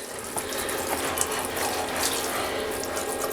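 Shower water sprays steadily onto plastic anime figurines, a continuous close hiss of running water with small clicking spatters, no talk.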